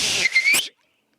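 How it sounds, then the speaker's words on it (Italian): A lifeguard's whistle blown at the start of a sea rescue at a beach: one loud, steady whistle blast of about half a second, followed by a short sharp burst, then silence. "C'è il fischio"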